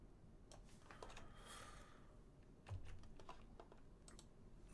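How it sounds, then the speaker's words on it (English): Faint typing on a computer keyboard, a scattered run of soft key clicks over a low background hiss, with no talking. "I'm just typing this crap in here"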